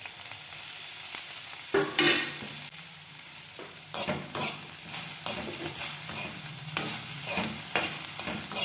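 Okra frying in oil in a pan, turned until reddish, with a steady sizzle and repeated scraping stirs of a spatula at irregular intervals, close and moderately loud with no talk.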